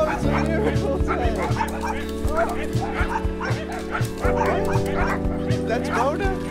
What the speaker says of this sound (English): I release all the dogs on free. Look at all these dogs.